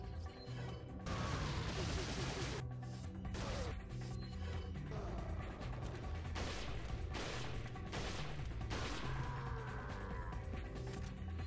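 Rifle fire and gunfire aimed at Salvador in the Resident Evil 4 Mercenaries game mode, heard as a dense, loud, continuous stretch of game audio with repeated sharp shots and mechanical clatter.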